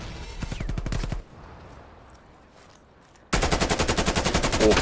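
Rapid automatic gunfire from a Call of Duty Cold War ranked match, loud bursts of machine-gun shots at the start and again at the end, separated by a quieter lull.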